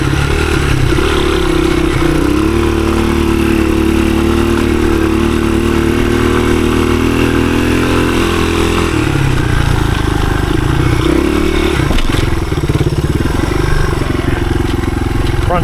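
A 1983 Honda XR200R, a light 15-horsepower dirt bike, rides through woods, its small single-cylinder engine droning steadily and loud throughout, easing briefly around the middle before picking up again.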